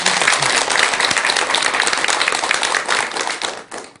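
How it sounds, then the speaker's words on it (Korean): An audience at a Buddhist monk's lecture applauds steadily, dense clapping filling the whole stretch before tapering off at the end. "박수 한번 드리세요"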